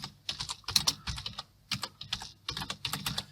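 Fingers type on a computer keyboard in quick clusters of key clicks with short pauses between bursts, close and fairly loud, with no talking.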